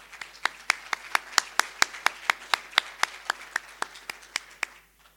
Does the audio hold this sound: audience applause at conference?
yes